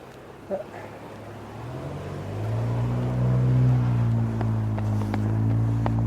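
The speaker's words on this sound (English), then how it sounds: "That's the gas-driven car." An engine hum grows louder and steadier as a car approaches and drones past, fairly close, with faint background noise.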